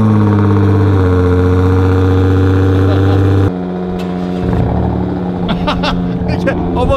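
A Nissan Skyline R34 GTR engine running nearby, a steady low idle hum that shifts in tone midway, with people talking over it.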